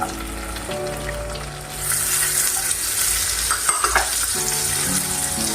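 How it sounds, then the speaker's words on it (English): Chopped garlic frying in hot clarified butter in a pan, a steady close sizzle that grows louder and denser partway through, with faint stirring scrapes. "We'll add butter first, clarified butter, chopped garlic, which is 1 tablespoon"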